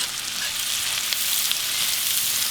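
Mushrooms frying in a pan for hamburger steaks, a steady close sizzle with light crackle and a few soft pops, no voices.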